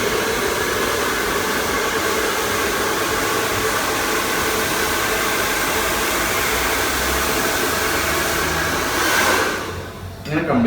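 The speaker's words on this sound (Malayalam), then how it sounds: "നമ്മൾ 1 ഇഞ്ച് വിട്ടിട്ട് വേണം ഡ്രയർ പിടിക്കാൻ." Hair dryer blowing hair during a salon haircut, a steady loud whooshing roar held close and constant for most of the time, briefly swelling and then cutting off near the end.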